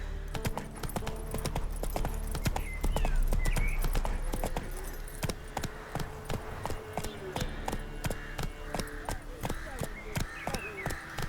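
Horse hooves clip-clop in a steady rhythm in The Witcher 3, mixed with game ambience, faint jingling tack and occasional voices.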